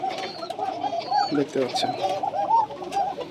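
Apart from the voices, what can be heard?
pigeons cooing at a pigeon farm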